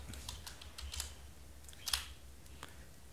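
A web address is typed on a computer keyboard into the Google Chrome address bar. The close, sharp key clicks come in scattered bursts, with one busier cluster near the middle and long gaps between.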